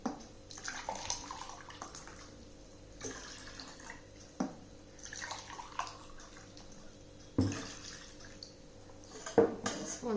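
Cold water from the fridge poured into a jug to make lemon juice, heard as several short splashing pours spaced through the clip, close by, each followed by a soft trickle and faint clinks.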